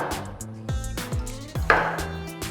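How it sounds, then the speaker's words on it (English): A knife roughly chops blanched, peeled tomatoes on a board, making a handful of sharp, close thuds at an uneven pace with soft wet squelches between the strikes and no talking. "Roughly chop them,"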